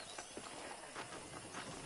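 Horse hooves clip-clop in a steady trotting rhythm in the video game Red Dead Redemption, quiet and fairly close, with no voices.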